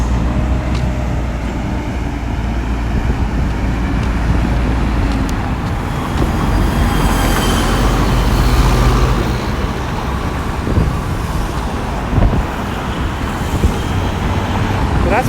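Steady roar of highway traffic with heavy trucks rumbling past at a construction site on Guyana's Heroes Highway, a continuous dense wash of engine and tire noise with no talk.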